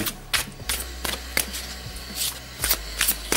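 Tarot cards are shuffled for a six-card hexagram spread in a series of quick, crisp riffling bursts, close and fairly clear, with short pauses between shuffles.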